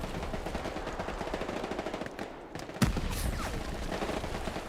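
Gunfire in the World War II shooter Hell Let Loose, a rapid stream of distant automatic shots rattling continuously, with one sharper, louder crack standing out partway through.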